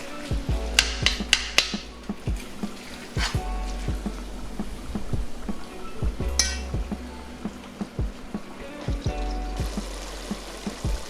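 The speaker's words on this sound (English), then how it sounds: "we gonna give it a little stir" Ground meat for homemade chili stirred in a pot, a spoon clinking and knocking against the metal in irregular bursts, with sizzling and soft scraping in between, close and fairly loud.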